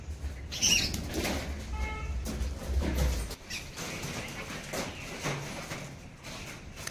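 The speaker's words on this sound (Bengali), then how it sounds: "এই দেখো রাস্তাতে কত পাখি দেখতে পাচ্ছ" A flock of birds flutters down to feed on rice scattered over a roof, with a soft burst of flapping wings early on and a steady, close rustle through the rest.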